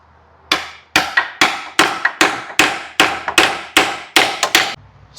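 A hammer delivers about a dozen sharp metallic taps in a steady rhythm, seating a Dodge Ram front axle seal, close and loud, each strike ringing briefly before the next.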